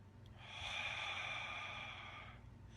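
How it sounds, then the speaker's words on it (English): One long, slow breath drawn audibly through the nose, airy and close, rising and fading over about two seconds. "You can be breathing like this."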